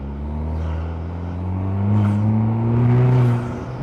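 A Vanderhall three-wheeled turbo car driving at slow speed, its engine humming steadily and loud nearby, with a gentle surge in revs midway and no talking.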